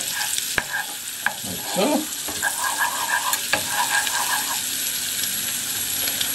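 Oil and butter sizzling in a hot pan as they are stirred around, with scraping and clinking utensil taps over a steady fry; someone speaks briefly.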